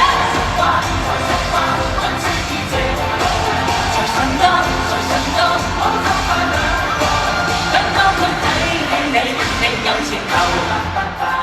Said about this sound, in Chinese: 尖叫聲